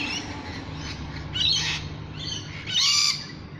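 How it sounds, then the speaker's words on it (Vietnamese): Lorikeet parrot in Australia, giving two harsh, loud squawks close by, the second longer, over continuous background bird chatter. "Đây là loại vẹt có tên là Loriket, nằm trong top 10 của thế giới"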